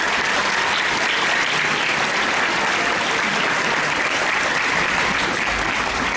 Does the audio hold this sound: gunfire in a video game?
no